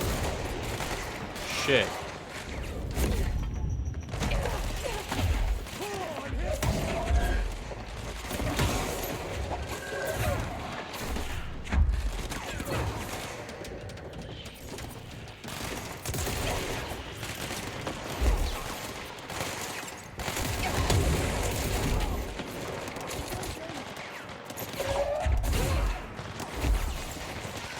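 Dense, chaotic weapon fire and impacts during a combat fight in the game Control, with bursts and crashes spread across the whole stretch, mixed with game effects and a voice swearing and talking.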